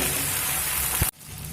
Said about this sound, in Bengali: তো যত সময় কাঁচা গন্ধ থাকবে তত সময় আমি আদা রসুনটা ভালোভাবে কষিয়ে নেব।